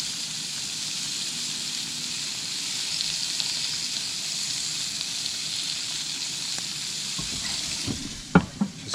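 Burgers sizzling on a Charbroil grill inside an RV, a steady close hiss of frying fat that continues evenly throughout, ending with a few soft clanks.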